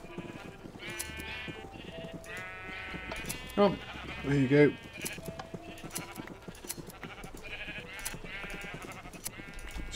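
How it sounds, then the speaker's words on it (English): Sheep bleating in Minecraft on a multiplayer server farm, a cluster of loud bleats midway over quieter game sounds, with someone talking briefly. "Getting overwhelmed with the number of sheep."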